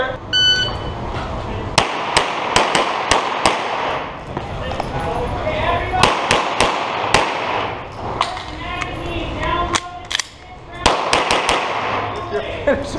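Pistol shots ring out at an IDPA practical shooting match, a string of sharp, loud reports in irregular bursts, some in quick pairs, with a spoken voice and range chatter between them.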